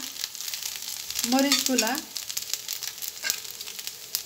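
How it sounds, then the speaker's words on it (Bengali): Chopped chillies are stirred into pasta frying in a home kitchen pan, a continuous close sizzle with scattered scraping taps of the spoon and a brief tonal squeak partway through. "মরিচগুলা দিয়ে হালকা এখন কিছুক্ষণ নেড়ে চেড়ে নেব।"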